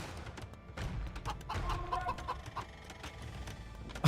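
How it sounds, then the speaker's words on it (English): Chickens cluck in a medieval real-time strategy video game, in soft, repeated bursts over busy game background noise, with no talking. "What did those chickens ever do to you, Tato?"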